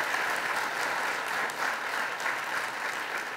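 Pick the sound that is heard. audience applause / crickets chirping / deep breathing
audience applause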